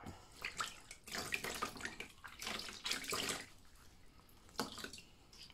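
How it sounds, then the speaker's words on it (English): Wet felted wool flower rinsed under lukewarm tap water, with splashing bursts of running water and handling of the wet felt, loud and close with no talking. "So give it a good rinse,"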